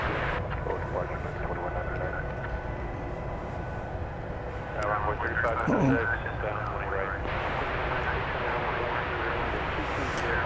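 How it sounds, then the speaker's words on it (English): Airplane taxiing at DFW airport, a distant steady jet engine rumble and whine under talk and a crackling air traffic radio channel, with engine noise briefly swelling midway. "Now this plane can go."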